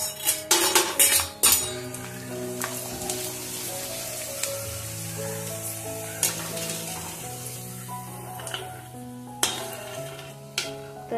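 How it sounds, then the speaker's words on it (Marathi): Chips frying in very hot oil in a home kitchen, a steady loud sizzle with bubbling crackle and occasional clinks of a utensil against the pan, no voices. "तेल खूप गरम झालेलं आहे. तर मी आधी तुम्हाला चिप्स तळून दाखवते."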